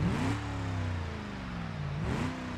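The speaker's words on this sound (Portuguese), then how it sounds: "vamos ligar e ver o barulho desse motor que eu ainda não escutei." A turbocharged Jeep engine in the video game BeamNG.Drive revs up, settles into a droning idle, then rises again near the end, loud and close with no talk.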